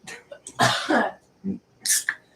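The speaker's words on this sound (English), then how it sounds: "Cough in your elbow." A few short, harsh coughs and a throat-clearing burst in quick succession, close by, separated by brief pauses.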